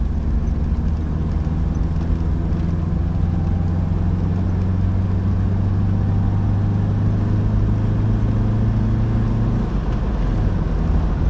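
A car engine pulling steadily in third gear, a continuous low mid-range drone with a sustained tonal hum, heard from inside the cabin throughout without talk.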